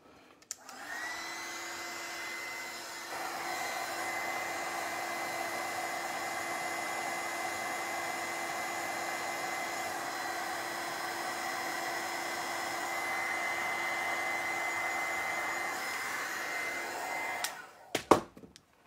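A hair dryer blows steadily on a freshly painted, still-wet lamp, its loud continuous whine and airy rush holding for about seventeen seconds before it clicks off with a couple of handling knocks.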